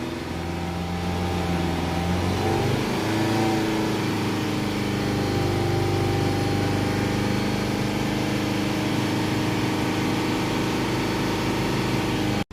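Mercedes Sprinter 2.1 diesel engine, with a blocked DPF from ash buildup, climbs from idle and holds steady at about 3000 RPM, a loud close drone with a rising pitch early on and no talking.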